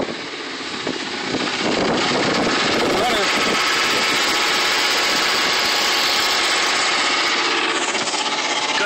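An impounded 1999 Chevrolet Silverado with a 4.8 V8 idles loudly just after a cold start, a steady close rough engine drone that rises in the first two seconds and then holds, with a voice briefly heard early on.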